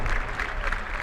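A stadium crowd applauds at a women's European qualifier football match between Macedonia and Azerbaijan, a dense steady wash of clapping heard from a distance.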